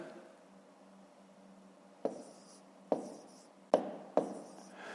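Numbers are written by hand on paper during a fifth-grade math exercise, with quiet scratching and several sharp taps of the pen spaced unevenly over a faint background hiss.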